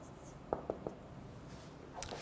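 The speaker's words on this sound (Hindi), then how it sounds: "मैं लिख देता हूँ आपके लिए," Pen writing notes during an online English lecture: a few soft scratching strokes close by over a faint background hiss, brief and quiet.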